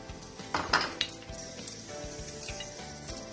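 Oil heats in a pan for a tempering for coconut rice, giving a soft steady sizzle broken by a few sharp clinks of a utensil against the metal around the first second.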